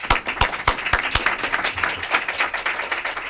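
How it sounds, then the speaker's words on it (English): Audience applause at a nonprofit research forum: a dense wash of many hands clapping at close-to-middle distance, steady and sustained, with a few sharp individual claps standing out near the start and no voices over it. "please join me, too, in applauding the Institute for working so hard for us"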